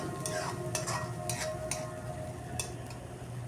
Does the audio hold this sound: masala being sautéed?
yes